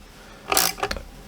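Brass M3 screws being snugged down on a 6N1P tube preamp circuit board, giving a short burst of close mechanical scraping and clicking with two or three quick ratchet-like ticks.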